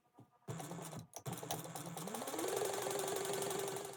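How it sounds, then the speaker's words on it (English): A sewing machine stitches a quarter-inch seam close by, starting after a brief pause and a click, then running as a steady fast mechanical whir that climbs a little in pitch as it speeds up. "we're going to stitch these down at 1/4 inch seam allowance"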